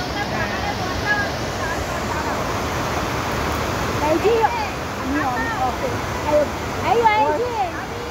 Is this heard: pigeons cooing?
no